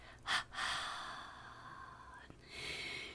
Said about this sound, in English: release the tension with the double breath out